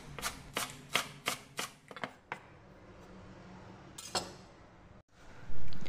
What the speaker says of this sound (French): Je vais couper un mélange de coriandre et persil finement.